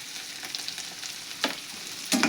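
Chutney ingredients frying in a pan for a dosa side dish produce a soft, continuous hiss, broken by a couple of sharper spoon scrapes near the end.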